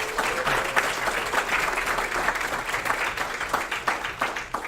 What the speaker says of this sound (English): Just want to have us give another round of applause to our honors recipients